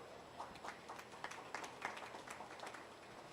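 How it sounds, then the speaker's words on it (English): Scattered applause for exhibitors at a breeding beef cattle show: soft, uneven clapping from a crowd, faint and somewhat distant. "Give these maintainer exhibitors a round of applause out here."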